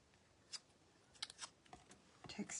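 Bone folder texturing paper in a Christmas craft project, quiet, close scraping and tapping strokes in short irregular bursts against a near-silent background.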